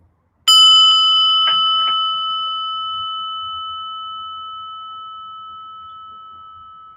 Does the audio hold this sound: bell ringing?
yes